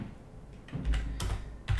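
Typing on a computer keyboard: a few close, soft clusters of key clicks in quick, uneven bursts, heard alone with no talking.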